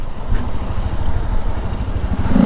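A Honda XRE 300 motorcycle engine running steadily nearby, a throbbing low rumble that holds fairly constant with slight rises in revs.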